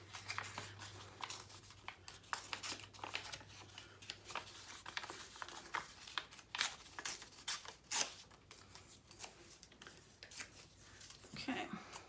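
Paper from a magazine page being torn by hand at a craft table, a series of crisp rips and crackles spread across the stretch with faint talk in between.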